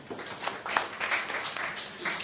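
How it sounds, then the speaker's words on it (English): Guests at an inaugural business dinner applauding themselves during a keynote, a fairly steady patter of clapping from a room-sized crowd, moderately loud with no voices on top. "So again, clap for yourselves."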